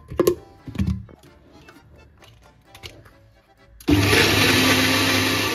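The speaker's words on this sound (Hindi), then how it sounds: "जो मैंने आपको आधी प्याज दिखाई थी वो उसको मैं जो है ग्राइंड कर रही हूँ" Half an onion whirs in a kitchen blender, a loud steady grinding roar that starts abruptly after a few seconds of quiet handling clatter and runs continuously to the end.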